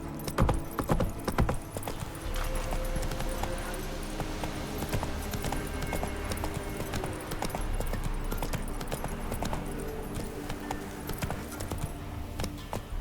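Roach the horse gallops in The Witcher 3, a steady clip-clop of hooves running on through a continuous game soundscape with a low rumble beneath, loud and close for the whole stretch.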